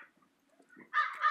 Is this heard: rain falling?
no